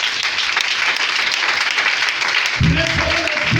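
A church congregation applauds and cheers in a dense, continuous wash of clapping, loud and close, joined near the end by a voice speaking over the crowd.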